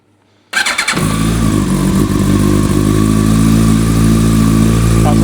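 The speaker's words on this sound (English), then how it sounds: "I'm just going to start the bike, make sure I've got no air leaks" A 2000 Yamaha R1 motorcycle with a fitted end can fires up after a brief silence, then settles into a loud, steady, close idle that stays even to the end.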